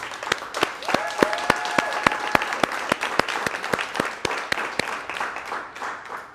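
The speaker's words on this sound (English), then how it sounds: "let's close by giving our panelists one final round of applause" Audience at a medical-week accelerator panel event gives the panelists a final round of applause: a lively crowd clatter marked by one person's loud, steady rhythmic claps, tapering off toward the end.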